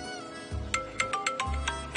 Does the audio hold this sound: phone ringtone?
yes